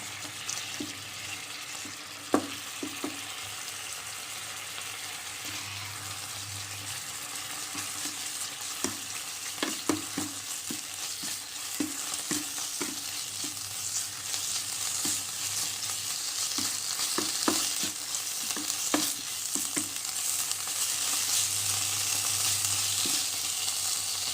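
Curry paste stir-fried in a pan for a mixed-vegetable curry, giving a continuous frying hiss punctuated by frequent clicks and scrapes of the spatula against the pan, with no talking.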